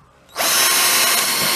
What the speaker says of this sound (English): now I'll drill pilot holes